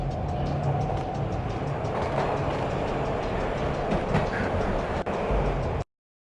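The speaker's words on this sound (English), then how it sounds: "This was my second train ride of the night." A train ride in the video game Max Payne 3: continuous rumbling rail noise with rhythmic rattling and clatter of the cars, loud and steady, cutting off abruptly near the end.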